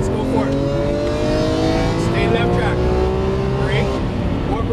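Lamborghini Aventador LP700-4 V12 engine accelerating on a race track, a loud, steady, rising engine drone with climbing harmonic tones, heard from inside the car while a driving instructor talks over it.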